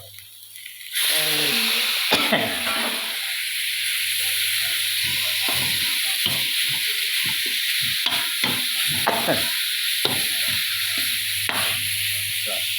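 Beef with herbs hits a hot pan and sizzles loudly and steadily, with a spatula scraping and tossing the meat in an irregular rhythm over the constant hiss.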